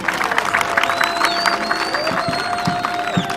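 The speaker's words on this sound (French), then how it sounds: "Applaudissez plus fort s'il vous plaît" Audience at a bridge construction launch ceremony in Lualaba applauding harder on request, a dense, fairly loud wash of clapping with scattered cheers and a few voices mixed in.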